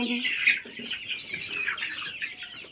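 Chickens on a newly set up poultry farm cluck and chirp continuously, several birds calling over one another at close range without pause across the short stretch.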